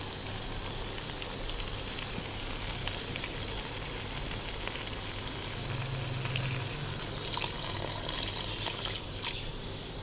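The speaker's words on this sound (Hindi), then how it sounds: "अब इसमें पानी ऐड कर देंगे।" Potatoes and green beans frying in a pan as water is poured in, giving a steady, close hiss and bubbling sizzle that holds evenly throughout with no talking.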